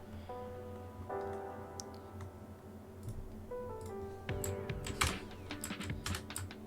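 Quiet, irregular clicking of keys on a computer keyboard, a run of light taps over a steady background of sustained musical tones.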